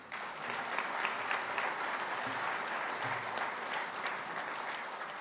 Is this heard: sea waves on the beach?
no